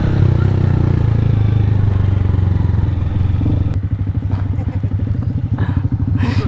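Motorcycle riding on a dirt road, a loud close engine drone with rattling clatter that shifts to a choppier, bumpier rhythm midway as the bike jolts over rough ground.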